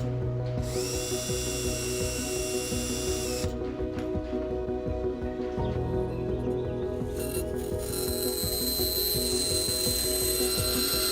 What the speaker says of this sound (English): I just need to take this to the bandsaw.